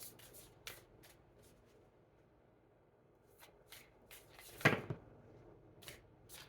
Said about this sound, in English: they may just want me to sit here and shuffle.